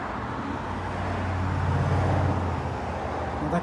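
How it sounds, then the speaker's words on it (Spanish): Steady roadway noise on a street as cars pass by, a continuous low rumble with one vehicle swelling slightly nearer in the middle, without voices. "Ahí pasan los carros, te pueden atropellar."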